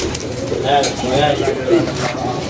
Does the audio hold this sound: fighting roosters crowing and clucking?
no